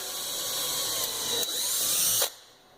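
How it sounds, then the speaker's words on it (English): A small power drill with a 7/64 bit whines at high pitch for about two seconds, close up and steady, then stops abruptly, drilling for a Walbro fuel pump kit install on a BMW N54. "we're going to need our drill with a 7/64 drill bit again"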